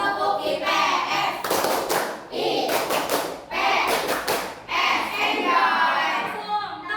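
A class of students claps out the rhythmic 'Tepuk IPS' clap pattern together, loud bursts of hand claps with brief gaps between them, some voices chanting along.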